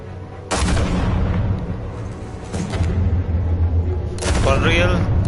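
Three loud, booming gunshots ring out one by one, spaced well apart in Batman: The Telltale Series, with voices heard around them.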